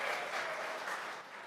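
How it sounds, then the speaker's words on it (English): An audience at a Tesla presentation breaks into dense applause, a steady wash of many hands clapping that fades slightly toward the end. "You don't have to clap after every slide unless you really want to"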